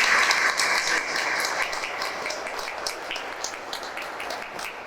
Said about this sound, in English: So, a big round of applause to all the Office of Innovation.